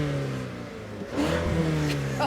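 A Mazda CX-90 all-wheel-drive SUV's engine idles with a steady harmonic hum, then revs sharply and holds a higher, louder note. The engine is close by and heard alone.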